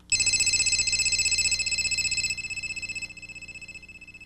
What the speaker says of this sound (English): You can also adjust the phone's ringer to receive incoming calls.